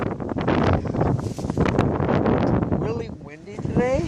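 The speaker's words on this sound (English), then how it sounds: "Really windy today, so it's kind of hard to talk when you're in the wind." Wind blowing through a home vegetable garden, loud microphone buffeting and rustle, with a person talking over it and the gusts easing toward the end.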